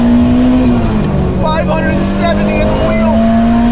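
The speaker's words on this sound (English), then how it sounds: "It does have a Ferrari sound, although admittedly slightly different," The engine of a 570 whp turbocharged Ferrari 308 drones loudly and steadily, its pitch dipping and then climbing again, while someone talks over it.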